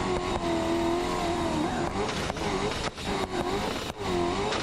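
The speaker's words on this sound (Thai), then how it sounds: "จี๊ดจี๊ดเครื่องยนต์จี๊ดอยู่ฮะ" A pickup truck engine in the BeamNG.drive driving game, on a slippery snow-covered stage, whines steadily with rising and falling revs, loud and continuous throughout with brief dips.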